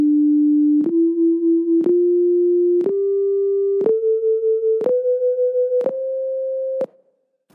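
A monochord plays a rising Pythagorean scale as eight steady sustained tones, each step marked by a sharp pluck-like onset about once a second, with audible beating on some steps; loud, close and without speech.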